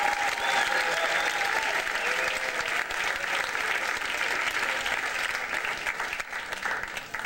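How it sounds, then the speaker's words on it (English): Sustained applause from an audience at a tribute event, steady and dense for the full stretch with a crowd murmur underneath, easing slightly toward the end. "can we have a huge round of applause for our MC tonight, Mr. Paul Rodriguez."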